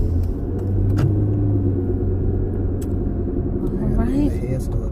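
Road traffic rumbles past steadily nearby, with low engine and tyre noise throughout and a voice heard at times over it.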